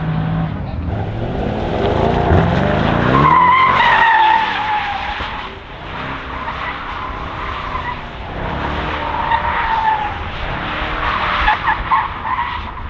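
A Mercedes-AMG E63S or C63S drifts at a driving school, tires squealing in long rising and falling howls over a loud engine roar that swells and eases with throttle, close and continuous.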